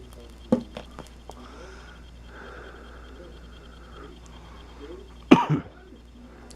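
A man coughs after smoking a Dji Sam Soe Super Premium kretek clove cigarette. A sharp, close cough comes early, then a harsher burst of two or three coughs near the end, with quiet gaps between.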